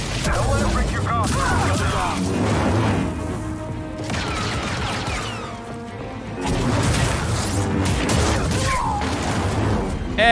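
Blaster fire fight with stormtroopers in Star Wars Jedi: Survivor, a dense, loud stretch of repeated shots and crashes running almost the whole time, with brief lulls, mixed with game voices.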